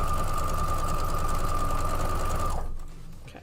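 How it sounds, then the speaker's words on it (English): A sewing machine runs steadily as it stitches quilt fabric pieces together, its motor a constant hum and rapid needle chatter, stopping abruptly near the end. "we're going to go ahead and sew these up"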